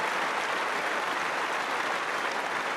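A tennis crowd applauding steadily, dense continuous clapping filling the arena at an even level without a break, with Serena among those standing to join the ovation.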